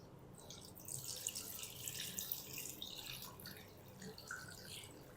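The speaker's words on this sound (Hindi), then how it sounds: "दो तीन पानी से ना अच्छी तरह हम इसको धो लेंगे।" Pieces of fish are rinsed with water in a bowl, giving soft splashing and trickling with occasional drips, close but quiet, with no talking.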